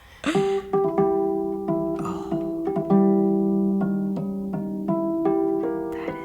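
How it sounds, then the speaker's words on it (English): Plucked harp harmonics ring out with a bell-like, hollow tone, a slow sequence of separate notes sustaining and overlapping, clear and close. "Harmonics are not unique to any instrument, but they sound particularly cool on the harp."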